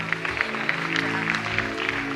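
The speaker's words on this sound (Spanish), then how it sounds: "Dale un aplauso al Padre, al Hijo," Church congregation applauding during a worship service, a steady wash of many hands clapping with distinct individual claps standing out over a low sustained instrumental hum, moderately loud throughout.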